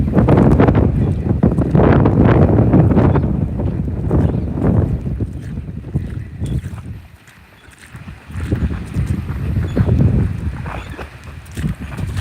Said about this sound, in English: That's a good little wind gust we just got.